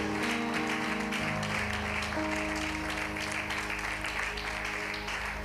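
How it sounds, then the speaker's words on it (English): A church congregation claps steadily and densely throughout, with sustained organ and keyboard chords underneath. "Everybody clap your hand."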